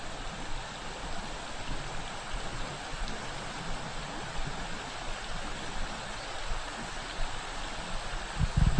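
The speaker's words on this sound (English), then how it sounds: "Let's see how the new camera picks up the river sound" A river flows past in a steady, full rush of water, a constant broadband wash heard alone without talk.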